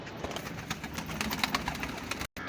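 Pigeons coo and call in a pigeon loft setup, fairly close, under a steady broadband hum with a faint idling engine in the background.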